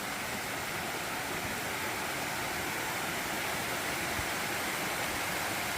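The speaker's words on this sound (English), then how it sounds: "These are the waterfalls." Waterfalls on the Black Rock Mountain trail in Rabun, Georgia, a steady, even rush of falling water that holds constant throughout, at moderate distance and alone.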